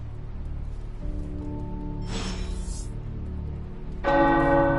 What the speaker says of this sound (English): Tower bells are ringing.